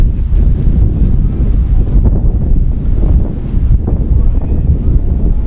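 Loud, continuous wind gusts batter the microphone at a baseball field during a wood-bat tournament elimination game, a dense rumbling roar that swells and dips without pause.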